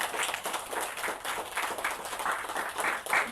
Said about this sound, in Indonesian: tepuk tangan buat Ustadz Supriyanto